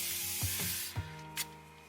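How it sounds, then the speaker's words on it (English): A thermal spring water spray bottle is pumped onto the face: a loud sustained hiss of fine mist, then a few short quick spritzes with small clicks of the nozzle. "So I have this thermal spring water spray."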